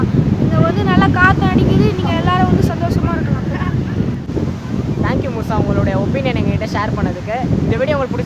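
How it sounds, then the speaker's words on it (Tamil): Strong, steady wind at Kovalam beach on the ECR coast buffets the microphone with loud, continuous rumbling gusts, while someone talks over it throughout. "இதை வந்து நல்லா காற்று அடிக்குது"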